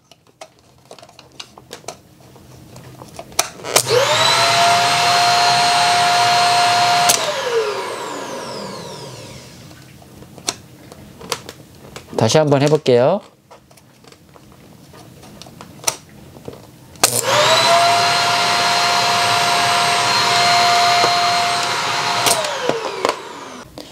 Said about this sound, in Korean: 이거는 청소기예요. 청소기 그냥 소리만 듣기 위해서죠.